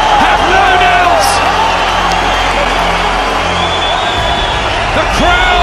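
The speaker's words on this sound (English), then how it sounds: "The crowd." A boxing arena crowd roars in a continuous, loud wash of cheering. A commentator talks over it throughout.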